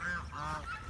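Farm geese honk loudly close by, a quick run of two or three harsh, nasal calls packed into a single second.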